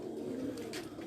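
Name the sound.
pigeons cooing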